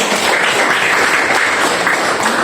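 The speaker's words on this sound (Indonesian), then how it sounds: "Mari kita tepuk tangan." An elementary school class claps together in a loud, dense burst of applause that holds steady for a couple of seconds, with no talking over it.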